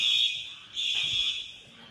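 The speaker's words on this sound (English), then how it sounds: "Alarms at Springfield Middle School blared Thursday as first responders assessed the damage" At Springfield Middle School, after tornado damage, a fire alarm blares with a shrill electronic tone that sounds in two long bursts with a brief dip between them. No talking is heard.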